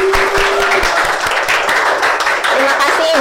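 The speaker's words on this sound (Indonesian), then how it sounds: "Tepuk tangan." Loud, steady applause for a guest teacher on a school podcast, dense clapping filling the whole stretch with a brief voice tone early on.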